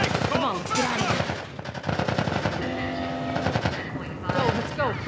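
Gunfire in The Last of Us Part 1 as fleeing Fireflies are shot at, with rapid loud bursts of automatic fire and scattered single shots, mixed with shouted voices and an announcement over a loudspeaker.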